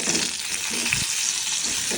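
Pointed gourd (potol) pieces fry lightly in a pan, giving a steady close sizzle with a faint stirring scrape partway through. No voices.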